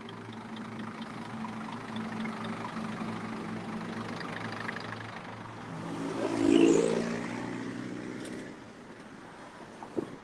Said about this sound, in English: Hear this bus?